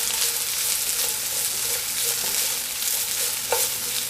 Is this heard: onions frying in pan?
yes